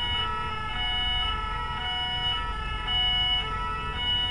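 Loud, overlapping emergency vehicle sirens from a police and fire engine convoy in Arma 3 Altis Life, wailing steadily throughout with engine rumble underneath.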